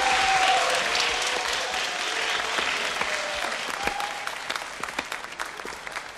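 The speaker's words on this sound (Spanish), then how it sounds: "Un aplauso está para nuestros primeros concursantes." Audience at a dance contest applauding the first contestants, a dense burst of clapping that starts loud and gradually thins out into scattered claps.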